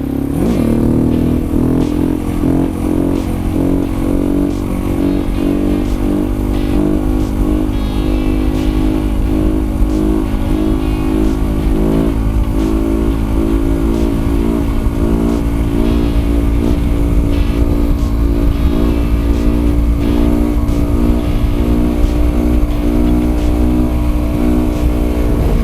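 An adventure motorcycle's engine roars loud and close during a wheelie, a sustained droning rev with steady harmonic tones that swell slightly and hold throughout.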